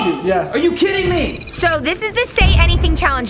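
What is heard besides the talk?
phone ringing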